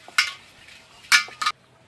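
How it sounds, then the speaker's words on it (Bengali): A spoon clinks against a brass cooking pot as ghee is spread around its inside, giving three brief, bright metallic taps separated by quiet pauses. "ঘিটা দিয়ে আমি হাঁড়ির চারদিকটা ভালোভাবে মেখে নেব"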